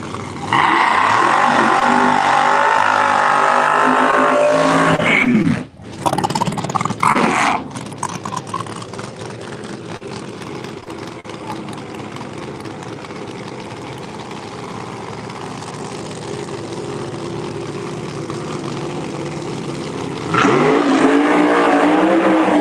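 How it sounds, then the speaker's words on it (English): At a dragway, a roots-blown supercharged drag racing car's engine is cranked and started, roaring loudly and steadily nearby. It dips briefly and then drones on before surging again at the end. "Paul Gibbs trying to get the roots blown machine started. I see the starter coming off of it."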